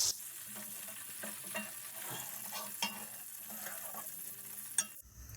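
Ingredients fry in oil with a soft, continuous sizzle and crackle, broken by occasional scrapes of a stirring spoon, close but fairly quiet, and the sound cuts off near the end.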